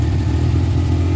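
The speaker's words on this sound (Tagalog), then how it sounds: "Kakastart pa ng makina, nag-idle lang tayo." A Suzuki Multicab engine idles just after starting, a steady, loud low rumble that runs evenly throughout.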